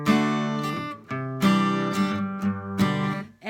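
Electric guitar plays a riff alone, with bright picked notes and chords in a bouncy rhythm of a few phrases.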